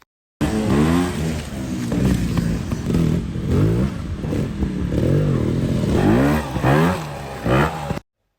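A trials motorcycle ridden through an observed section, its engine revving up and down in quick bursts over about eight seconds, close and loud with no talk.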